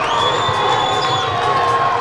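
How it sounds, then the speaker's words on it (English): A college basketball student section cheers and shouts loudly in a large arena, a dense continuous roar with high whoops and whistles. "Student section making some noise."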